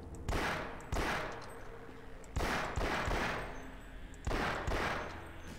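Submachine gun bursts from Half-Life: Source, four loud rapid-fire volleys about a second each with short pauses between, close and punchy with no voices.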